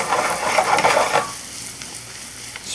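Shallots and fresh sage leaves hit brown butter in a pan, a loud close hiss and crackle for about a second that settles into a quieter, steady sizzle.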